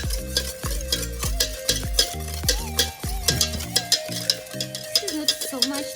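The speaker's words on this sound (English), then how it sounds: "And then you just whisk the banana and egg together." Banana and egg whisked together in a bowl, with a fast, steady rhythm of close, sharp clinks as the whisk strikes the sides, and a faint tonal hum running beneath.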